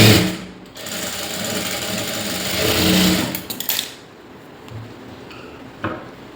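A sewing machine stitching a blouse lining runs in loud, steady bursts, then stops and gives a few short starts and clicks. No voices.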